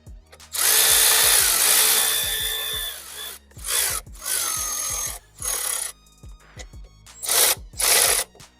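A power tool tightens parts on the engine of a 2008 Honda Civic Si during a valve cover gasket and spark plug job. It comes in several loud, close whirring bursts of differing length, separated by brief pauses.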